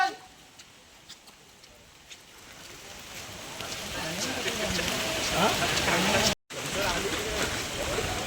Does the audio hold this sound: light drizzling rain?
yes